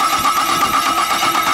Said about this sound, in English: So now it's cranking, just listen.